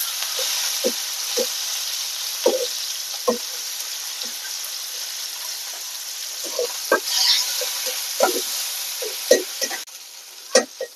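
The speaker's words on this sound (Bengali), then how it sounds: "দুন্দুলগুলো একটা তেলে দিয়ে ভাজবো" Sponge gourd frying in hot oil gives a steady close sizzle, punctuated by repeated scraping and stirring clicks from a utensil, alone with no talk.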